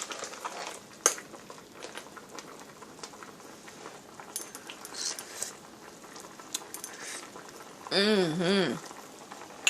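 Palava sauce simmers in a covered pot with soft bubbling and patter, light clinks of utensils, and a short burst of a voice near the end.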